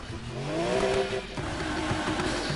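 Subaru engine revving in the racing video game NFS Heat, a rising synthesized engine note that climbs then settles into a rough idle with scattered mechanical clatter, heard alone without talk.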